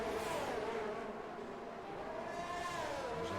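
A Mercedes Formula 1 car in F1 22 at the Japan circuit, its high engine note droning steadily with a slight pitch rise and fall as it runs close by.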